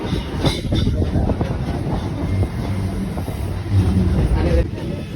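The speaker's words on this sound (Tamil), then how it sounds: "நம்மளோட ட்ரெயின் வந்து மேல் நோக்கி போகுது பாருங்கள்" A Chennai MRTS commuter train climbs onto the elevated line near Chintadripet, a low rumble with rhythmic clattering of the wheels and wind buffeting, heard from inside the carriage as people talk.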